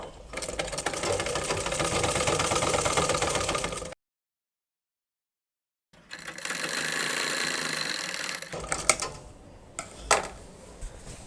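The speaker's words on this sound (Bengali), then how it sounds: "এখান থেকে সেলাইটা শুরু করব" A domestic sewing machine stitches along a petticoat's belt fabric, running in steady whirring bursts with a clear pause of silence between runs and a few clicks near the end.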